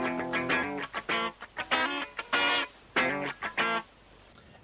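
A prog rock loop from a debut album, ripped from cassette, plays in choppy bursts with sustained harmonic tones cutting in and out in a stuttering rhythm, fairly loud and alone.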